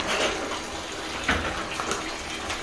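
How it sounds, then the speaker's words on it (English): Running water pouring into a bathtub as dry milk is added for a milk bath, a steady close splashing rush with a few brief louder sloshes. "So right now we're just adding the milk to it."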